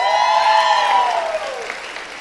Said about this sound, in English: this is a noisy crowd